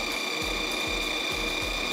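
A food processor grinds sugar with golden yellow food coloring, giving a steady loud mechanical whir with a regular ratcheting pulse roughly every half second, heard alone.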